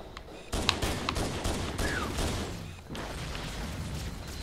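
Rapid pistol shots ring out in Halo: Combat Evolved, a string of sharp cracks fired one after another over continuous in-game ambience, loud and close.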